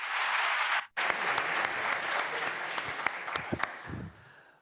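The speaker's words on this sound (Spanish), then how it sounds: "Nacho Ares y el autor Juan Eslava Galán, a quienes vamos a recibir con un fuerte aplauso." Applause at the Museo Arqueológico Nacional welcoming speakers to a book talk on Roman history: dense clapping that cuts off briefly, then resumes and thins out into scattered claps.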